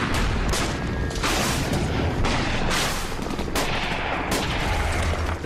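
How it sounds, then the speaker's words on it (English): Bombing and gunfire in Afghanistan war footage: dense, loud bursts of rifle and machine-gun fire mixed with heavy booms, relentless for several seconds. "The first phase of this war was the bombing of Afghanistan."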